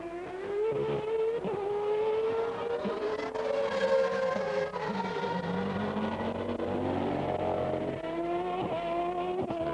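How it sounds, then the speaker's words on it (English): A 1993 Formula 1 car screams through a qualifying lap at the European Grand Prix, its high engine note rising and falling through gear changes as it sweeps past at speed. "Senna coming up to complete his first flying lap of this run"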